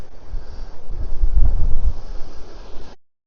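Wind buffets the microphone on the seashore by the yacht club at Aldeburgh, Suffolk, a loud rumbling roar that swells and eases for about three seconds before cutting off.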